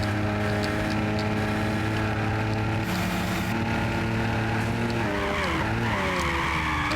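Race cars speed through a night race in Gran Turismo, engines droning steadily with layered harmonic whine, then pitches sweep and shift near the end as tires skid and squeal, all loud and continuous.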